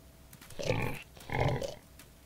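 Pigs in a video game, grunting and oinking in two short bursts with a brief pause between, fairly close and clear with no talk over them.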